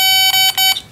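An electronic warning buzzer sounds during work on a 1995 Chevy K1500 4x4 truck: a loud, shrill, steady tone pulsing in three quick beeps in under a second, heard alone.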